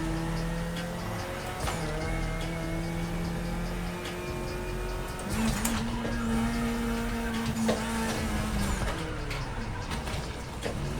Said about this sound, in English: Okay, drifting feels alright.